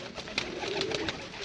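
Pigeons coo softly at a pigeon loft, a few low throaty burbling calls close by over faint background hiss, brief and quiet.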